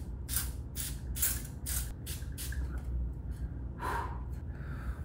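Close, crisp hisses of a thermal spring water face mist being sprayed, a quick run of several short puffs followed by a couple more after a pause, with no talking.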